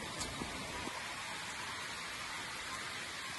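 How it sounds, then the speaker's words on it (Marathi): Heavy rain falls in a village, giving a soft, continuous patter and hiss of drops on surfaces with a few slightly sharper splashes near the start. "लय पाऊस आहे, खूप पाऊस आहे गावाला, खूप पाऊस आहे आणि मी भिजतोय."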